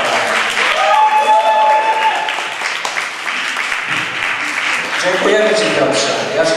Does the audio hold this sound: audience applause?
yes